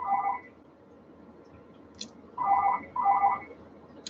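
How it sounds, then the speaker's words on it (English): A mobile phone gives a short electronic ring, and after a pause a home phone rings twice with a two-tone warble. Both are fairly quiet in an otherwise still room. "Someone's just rang my mobile and now it's my home phone"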